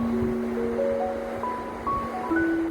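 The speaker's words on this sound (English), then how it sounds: "Just golden sands and the waves crashing onto them." Ocean waves wash onto a sandy Norfolk beach in a steady, continuous roar, with faint high whistling calls drifting over the surf.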